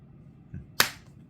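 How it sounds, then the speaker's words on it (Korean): One sharp, close hand clap rings out in a quiet room, a single crisp crack with a short decaying tail, preceded by a faint softer tap. "이 박수 소리가 어디서 들려?"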